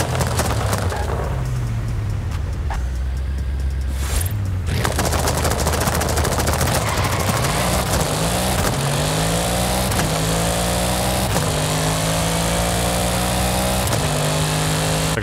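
Rapid crackling anti-lag exhaust pops fire in dense bursts as the revs drop on an all-wheel-drive car in Forza Horizon 5, loud and close, followed by rising and falling engine revs with further popping over the top.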